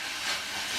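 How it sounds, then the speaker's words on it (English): Sliced red and green peppers and onion stir-frying in a non-stick pan give a loud, steady sizzling hiss that runs unbroken from start to finish, with no talking. "I'm going to continue stir frying that veg in there."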